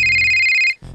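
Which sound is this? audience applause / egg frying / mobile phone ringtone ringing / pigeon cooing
mobile phone ringtone ringing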